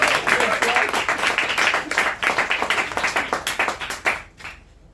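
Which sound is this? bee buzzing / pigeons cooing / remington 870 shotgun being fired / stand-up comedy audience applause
stand-up comedy audience applause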